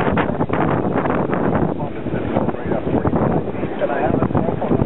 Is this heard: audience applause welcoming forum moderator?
no